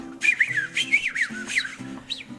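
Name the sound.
whistle calling dogs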